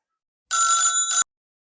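A telephone rings once in a short burst of bright electronic tones, with a brief gap near the end, standing alone against silence.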